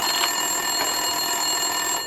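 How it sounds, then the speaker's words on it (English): In the Max Payne 2 video game, a desk telephone in a police station rings steadily with a continuous, bright electronic tone that fills the whole moment at a moderate, even level. "Winterson's phone was ringing."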